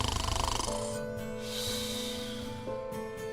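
A voice imitates a lazy fox snoring, with a run of rhythmic rasping snorts at the start giving way to drawn-out, wheezy breathy tones, close and moderately quiet.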